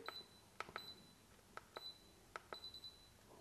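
A Daikin split-system air conditioner gives short, faint electronic beeps during an error-code test, arriving as quick single and double chirps spaced through a quiet room.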